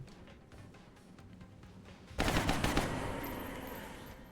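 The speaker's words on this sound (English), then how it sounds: "I think we're just gonna shoot him here." A burst of rapid gunfire erupts midway as an alien is shot in the XCOM strategy game Long War, loud and dense, following a quieter stretch of background game ambience.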